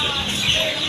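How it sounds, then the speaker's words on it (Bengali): Pakistani Misri farm chicks, older ones being packed, give a brief burst of high chirping and peeping up close, with farmyard noise underneath. "এটা হচ্ছে পাকিস্তানি মিশরি ফার্মি মুরগির বড় বাচ্চা।"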